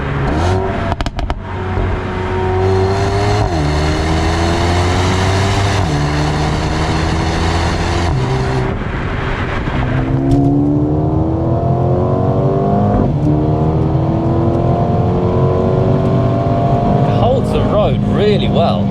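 Mercedes-AMG A35 pulls hard through the gears in Sport Plus, the engine note climbing in rising sweeps broken by quick shifts, loud and close from inside the cabin while people talk over it.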